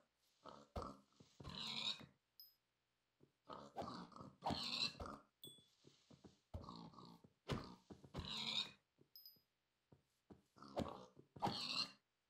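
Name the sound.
pigs in the video game Minecraft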